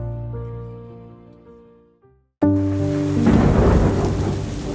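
A thunderstorm at night in Croatia: a loud, sudden thunderclap bursts in after a quiet, fading lull and then rolls on under steady, heavy rain.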